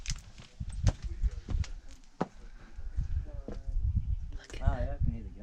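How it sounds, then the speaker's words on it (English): Goats bleat on a rocky outback trail at Kalbarri, a few short wavering cries breaking through close footsteps and movement, with people talking nearby. "Oh yeah, I can hear the goats."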